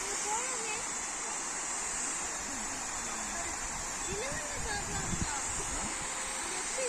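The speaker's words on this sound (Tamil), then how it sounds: "எவ்வளோ அழகாக தண்ணி கொட்டுது பாருங்கள்" Steady rushing water of a waterfall at Kolli Hills pours continuously, a dense roar with faint distant voices of bathers underneath.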